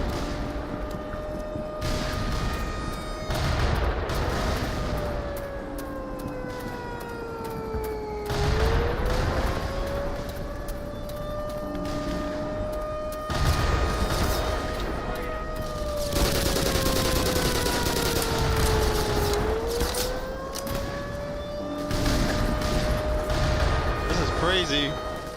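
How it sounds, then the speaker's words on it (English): Explosions and gunfire from a video game battle, with mortar rounds and a helicopter bombing the player, in bursts across the clip while a siren-like tone rises and falls underneath. "They're shooting mortars at me."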